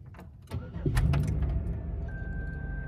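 A 2004 Pontiac Grand Prix GT engine starts with a brief cranking burst that catches and settles into a steady, close idle, with a faint electronic tone appearing near the end.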